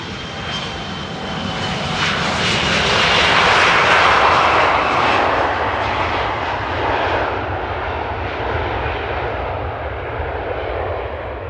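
A loud airliner takes off at Amsterdam airport, its jet engine roar building to a broad peak midway and then slowly fading as it climbs away outdoors, no talk.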